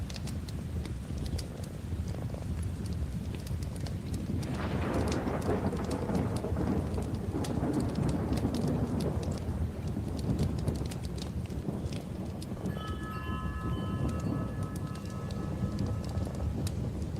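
Steady heavy rain pours down through a thunderstorm, with rolling thunder swelling in the middle and drops pattering on surfaces, loud and continuous from start to finish.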